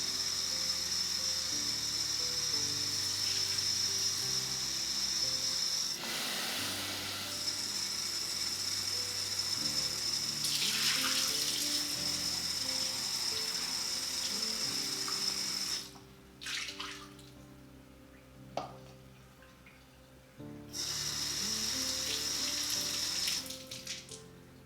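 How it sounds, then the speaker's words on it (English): Tap water runs into an AquaFlame fountain core to rinse out soap suds, splashing and trickling in several bursts with pauses, along with faint mechanical clicks and rattles as the piece is handled. "you're gonna wanna turn your water back on, and you're just going to clean it out until all of the soap suds are gone"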